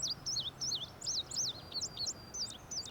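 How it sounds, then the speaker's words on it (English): An indigo bunting sings a run of quick, sharp, high chirping notes, many of them paired, repeated steadily and clearly against soft outdoor background noise. "indigo bunting"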